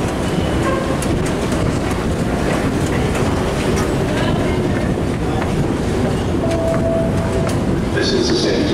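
A Transpennine Express passenger train bound for Scarborough rumbles steadily along the track, heard from on board with continuous loud running noise and faint wheel squeals near the end.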